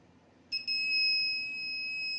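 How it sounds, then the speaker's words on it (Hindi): A multimeter in continuity mode beeps when its probes touch a wire on a desktop motherboard, giving a brief blip followed by a steady, piercing electronic tone that holds until the end, with no voice. "बीप हो रहा है"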